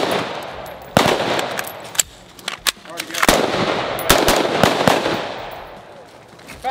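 AR-15 rifle gunfire during a training drill: loud sharp shots crack out singly and in quick bursts over several seconds, echoing outdoors, with brief voices between volleys.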